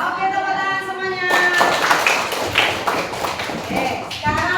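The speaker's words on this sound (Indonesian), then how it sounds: "tepuk tangan semuanya" Schoolchildren clapping together in a classroom, a burst of quick hand claps that starts suddenly and runs for several seconds, with a teacher speaking before and children's voices mixed in.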